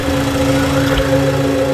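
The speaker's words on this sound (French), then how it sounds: "Le moteur tourne." A car engine idles while parked, giving a steady, loud, unbroken drone with a low hum that holds level throughout and no voices.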